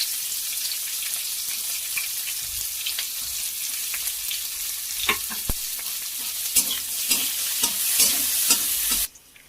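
Onion fries in oil left in a kadai with a steady, moderate sizzle and scattered sharp crackles and spatters that grow busier toward the end, then stop abruptly.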